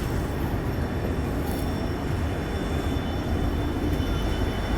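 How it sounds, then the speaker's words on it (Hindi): The Tinsukia Bangalore Express, hauled by a diesel locomotive, pulls into a railway platform as a steady low rumble of rolling coaches, fairly loud and unbroken, with no voices. "और बगल में ये अभी आ गई है अपने तिनसुकिया बेंगलोर एक्सप्रेस।"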